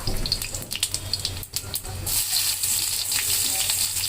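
Onion and cumin fry in a pan for paneer bhurji, a bright crackling sizzle that cuts in and out with stirring, then swells into a steady loud hiss.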